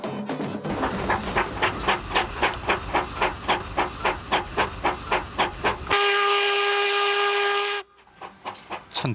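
A steam locomotive chuffs in a fast, steady rhythm, then a loud steam whistle blows for about two seconds before the chugging resumes.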